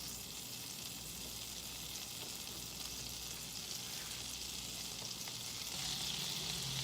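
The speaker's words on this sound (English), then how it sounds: "I'm going to go ahead and start adding my butter" About a tablespoon of butter melts in a hot pan with a steady, fairly quiet sizzling hiss that runs unbroken and grows slightly louder near the end, with no voices.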